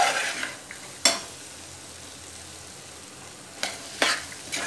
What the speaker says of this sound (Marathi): मिक्स करून घ्यायचं, भाज्या मसाल्यात परतून घ्यायच्या सगळ्या,